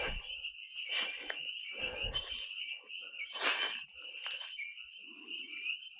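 Frogs croaking at tadpole-filled ponds in a nature preserve, a loud, steady chorus of raspy, pulsing croaks with a sustained trilling tone running underneath, close and continuous with no talking.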